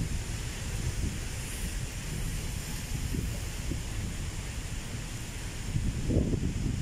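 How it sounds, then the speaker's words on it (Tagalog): Heavy rain with some wind in Manila makes a steady, dense hiss and rumble throughout, loud and unbroken, with a few gusty swells near the end. "Gawa ng pinapatila muna natin yung malakas na ulan."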